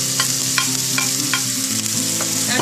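Ginger and garlic frying in hot oil in a wok, a steady loud close sizzle broken by regular scraping stirs of a spatula, with no talking.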